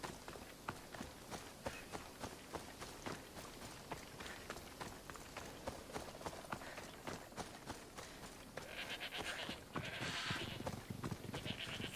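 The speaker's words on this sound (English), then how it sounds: "Three goats." Three ibexes, wild goats, bleat on an island in Assassin's Creed Odyssey, their calls mixed with rapid running footsteps and rustling, growing busier and louder toward the end, with no talk.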